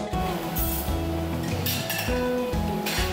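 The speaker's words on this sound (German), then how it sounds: "Hier ist unser Geschirrrückgabeband, das heißt, unser Geschirr, das wird von unseren Kollegen dann sortiert" Dishes, cutlery and glasses clink and clatter continuously on a university canteen's dish return conveyor belt feeding a belt dishwasher, with dense overlapping impacts at close range and a steady kitchen hum underneath.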